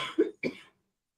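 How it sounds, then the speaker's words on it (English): A single person's cough, close and fairly loud: two rough bursts with a short gap between them, then silence. "This cough is coming back on me and I don't like it."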